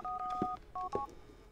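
A phone keypad in GTA The Lost and Damned dials out to call Jim: a few short, clean touch-tone beeps in quick succession, then quiet.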